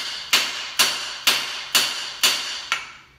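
Six sharp, ringing hammer blows land on misaligned bolts at an even pace, each metallic strike loud and close with a short decay, the last one slightly softer.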